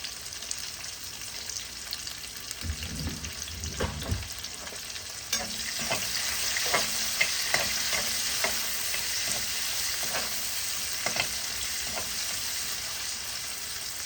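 Onion, curry leaves and dried red chillies sautéing in a pan, a broad steady sizzle that swells after an early low thump, with a run of rhythmic spatula scrapes and taps throughout, close and without any talking.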